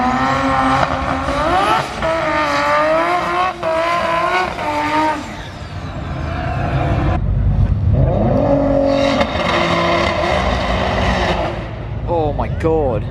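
A Nissan S15 powered by a five-cylinder Corsa engine drives hard around a race track, with rising and falling engine revs, gear changes and tire squeal heard from trackside, mixed with crowd and commentary voices.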